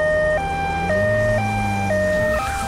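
A cartoon ambulance siren wails loudly nearby, alternating between two pitches in a steady hi-lo pattern over a low engine rumble.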